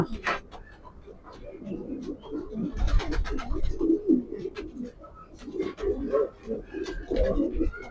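A racing pigeon coos repeatedly at close range, soft throaty rolling calls in uneven bursts with brief pauses between phrases.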